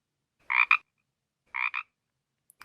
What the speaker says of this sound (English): there's actually only one frog that makes a ribbit sound. It's called the Pacific chorus frog.